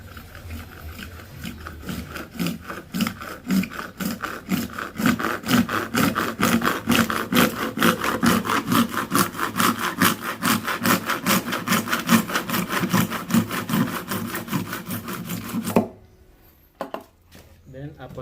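A hand saw with a thick blade cuts through PVC pipe, a steady run of rhythmic back-and-forth rasping strokes, close and fairly loud, stopping abruptly near the end; no talk over it.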